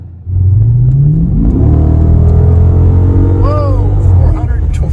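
A 2015 Dodge Challenger SRT 392 accelerates hard, its loud, close engine note climbing steadily in pitch as it pulls through the revs, with a voice briefly heard late on.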